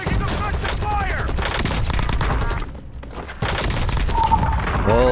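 Sustained rapid gunfire rains in during a Warzone match, dense bursts of automatic shots that drop out briefly and then resume, with a bright whistling tone near the end; voices talk faintly underneath.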